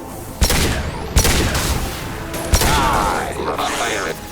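Loud gunfire in the video game Mass Effect 2, with several heavy booming shots and bursts of rapid fire echoing over a dense battle din.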